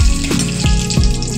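Bay leaf, panch phoron and whole dried chillies sizzle steadily in hot oil, a close, continuous frying crackle with a few soft stirring scrapes and no voices.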